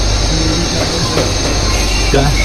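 A metro train runs with a loud, steady rumble and faint wheel squeal, and people talk briefly over the noise inside the carriage.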